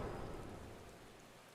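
Rain and rumbling thunder in the Final Fantasy XIV game world, a dense steady wash of rainfall over a low rolling rumble that slowly fades, with no voices.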